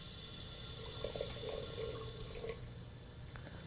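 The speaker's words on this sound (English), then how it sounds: "end of the tea ceremony, I will add fresh water" Fresh water poured into a boiling kettle at the end of a Japanese tea ceremony, a faint, quiet trickling and bubbling that rises briefly in the middle of a short stretch.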